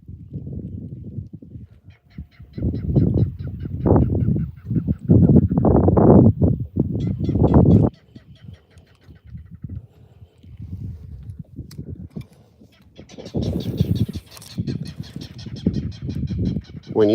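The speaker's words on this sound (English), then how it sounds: "When you hear those birds out here in the marsh" Ducks or geese calling in a marsh: loud, raspy quacking and honking calls in bursts, fairly close, with quieter stretches between and higher chattering calls near the end.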